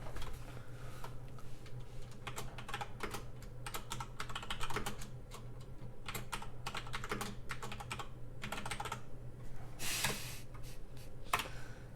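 Typing on a computer keyboard, with rapid irregular clicks and clacks in bursts and short pauses, fairly close but quiet, against a steady low hum.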